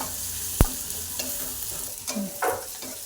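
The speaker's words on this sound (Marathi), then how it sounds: "कांदा मिरची चांगली लाल होईपर्यंत भाजून घ्यायची आहे" Onion and chili frying in a pan for quick okra bhaji, a sharp metallic clink followed by a light sizzle and a few spoon scrapes and stirs over about three seconds, close by.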